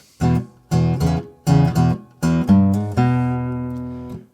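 Acoustic guitar playing a low blues shuffle bass pattern with the thumb on strings 6, 5 and 4, plucked in short rhythmic groups, then ending on a ringing sustained chord.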